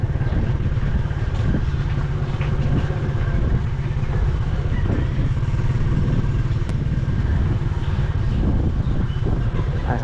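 Motorbike riding over a bumpy road in the Philippines, its engine a steady, loud, close rumble with rattles and jolts running all the way through, and no voices.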